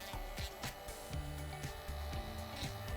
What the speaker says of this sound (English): you can quickly sand the edges using a handheld Dremel tool